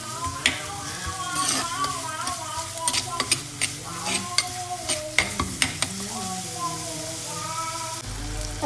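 Tomato and onion frying in a pan for a fish dish, with a spoon stirring and scraping through a steady sizzle; sharp clicks and scrapes punctuate the frying while a faint tonal background hums underneath.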